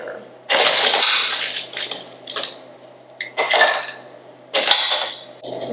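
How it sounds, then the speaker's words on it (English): Ice clatters into a glass or shaker for a Brandy Alexander dessert cocktail of brandy: several loud, clinking bursts of cubes dropping and rattling, with short pauses between pours. "We're going to add ice."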